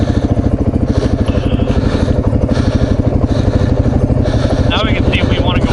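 A carbureted Suzuki DRZ400 dual sport motorcycle runs close by with a steady, rapid single-cylinder thump, loud and even, while a rider talks over the engine.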